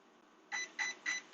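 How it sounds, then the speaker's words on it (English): Arrma Infraction RC car speed controller emitting four short, faint electronic beeps in a quick, even rhythm. "It was beeping rapidly in red."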